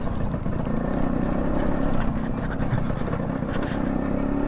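A motorcycle rides over a stony road, its engine giving a steady, close, continuous rumble with rough low-end texture and no pauses or talk.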